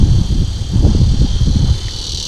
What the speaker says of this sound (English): You can hear some kind of bug over here making a lot of noise